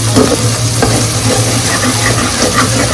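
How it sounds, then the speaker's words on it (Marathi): Malvani chili paste fries loudly in oil for a prawn curry, a close, continuous sizzle with rhythmic scraping from steady stirring in the pan. "मिरचीचं वाटप आहे ते चांगलं तेलावर परतून घ्यायचं"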